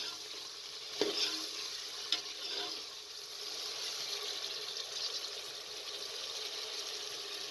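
Steady sizzling of mutton frying in a hot pan for tinday gosht, with a couple of sharp clinks early on and continuous crackle throughout, no talking.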